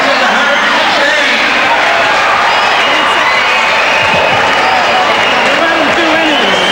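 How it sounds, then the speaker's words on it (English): Basketball arena crowd during a late timeout in a 1989 NBL game, a loud sustained roar of cheering and chatter filling the hall, with voices talking through it. "And listen to that crowd."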